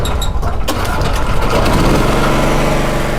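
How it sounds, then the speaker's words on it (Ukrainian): A petrol generator runs with a loud, steady engine drone close by, a dense continuous rumble that settles into an even idle after a brief rougher start. "Хороша ідея бензогенератор."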